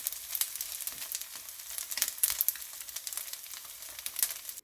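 Fried rice with webfoot octopus sizzling in a pan, spread flat to crisp, a soft continuous crackle with sharper pops, close and fairly quiet, no talking.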